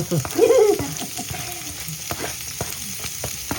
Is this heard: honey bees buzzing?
no